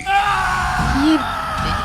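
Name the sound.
a terrifying scream echoing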